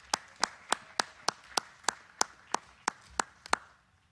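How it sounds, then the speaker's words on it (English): At a church gathering, about a dozen sharp claps in an even, steady rhythm ring out close and fairly faint, then stop. "So now join me in applause for both of them."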